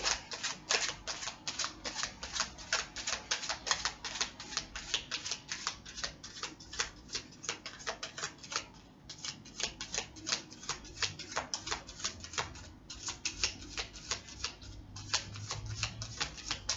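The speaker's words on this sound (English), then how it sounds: "As you can see, I'm shuffling these cards," Rapid, continuous clicking and flicking of tarot cards being shuffled by hand, a steady rhythmic patter that carries on without pause, close and crisp.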